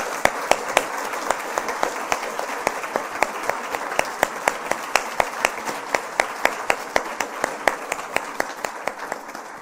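An audience at a women's symposium applauds a speaker with sustained clapping, where a few loud, rhythmic claps stand out over a steady wash of many hands throughout.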